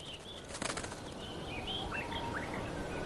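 Small leaf warblers flutter around flowering heather in the mountains, soft wingbeats burst briefly up close before thin, faint high chirps scatter over a steady background hiss.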